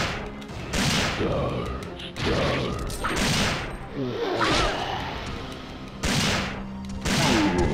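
Magnum revolver shots fired at Nemesis in Resident Evil 3, a series of heavy gunshot bursts spaced about a second or two apart, each with a booming tail, over game ambience.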